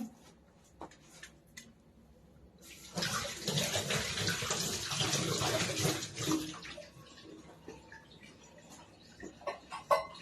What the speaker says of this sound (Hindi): तो मैं एक बार इसको हाथ धो लेती हूँ।